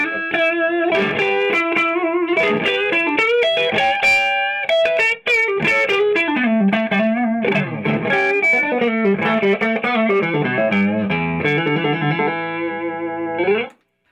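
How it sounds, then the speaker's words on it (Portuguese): Clean tone of a Giannini Classic T tube amplifier without reverb, an electric guitar playing a melodic run of single notes and chords for about fourteen seconds, loud and close, with one brief gap midway. "Agora vamos sacar o som limpo do Classic T, a princípio sem o reverb"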